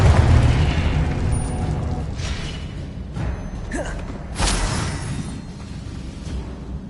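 A Confringo spell explodes in the Hogwarts Legacy video game with heavy rumbling booms over a dense, noisy background, followed by a sharp whooshing burst and a brighter blast a little later.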